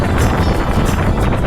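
Strong wind buffets the microphone on an exposed mountain trail along the Dublin Mountains Way, a loud continuous roaring rush with no pauses.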